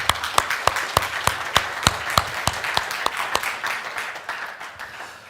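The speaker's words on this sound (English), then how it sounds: "we're going to give God the biggest round of applause you've ever given anybody" A church congregation claps in a steady, fairly loud rhythm of sharp, regular hand claps, with no other sound.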